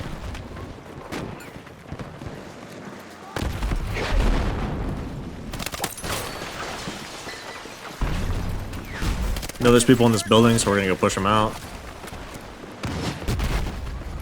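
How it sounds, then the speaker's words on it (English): Battlefield 6 gunfire and explosions in an urban building fight: bursts of rapid shots, heavy booms and rumbling blasts, some near and some distant. A player talks over the combat. "They're getting rocketed by gunfire and explosions"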